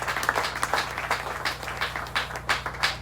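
A church congregation at a Pentecost service applauds in uneven bursts of claps, moderately loud, over a low steady hum, with a few voices faintly underneath.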